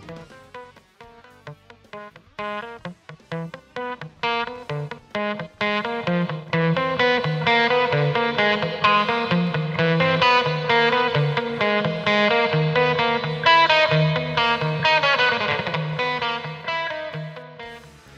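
Distorted electric guitar through a Hughes & Kettner GrandMeister 36 amp head, its gain, volume and reverb level shifting as it plays; loud and continuous, opening with choppy strummed chords and swelling into a sustained, saturated riff with no talking.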